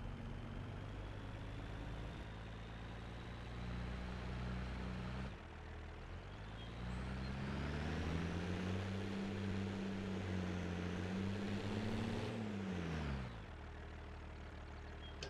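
Tractor engine in the farming video game Cattle and Crops, a steady low drone that holds for most of the stretch, rising in pitch mid-way as it revs and then settling back down.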